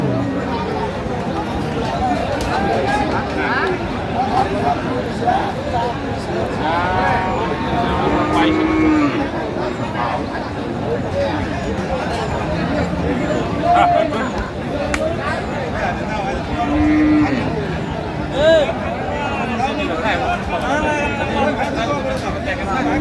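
Bulls and cattle low several times at a busy livestock market in Aftabganj, Dinajpur, deep moos rising now and then over steady crowd chatter and voices.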